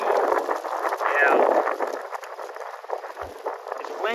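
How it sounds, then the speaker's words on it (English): Wind buffets the microphone on top of a hill during a harvest, a steady rushing roar with gusty swells that stays loud and close throughout. "Windy on top of the hill here,"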